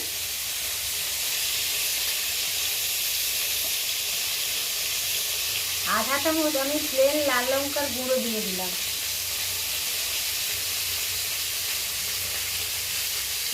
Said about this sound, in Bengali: আবার সেকেন্ড ব্যাচ ভেজে নিচ্ছি